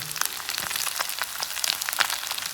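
Fish head and intestines frying in a pan, a steady bright sizzle with crackling pops scattered throughout, close and continuous, with no talking.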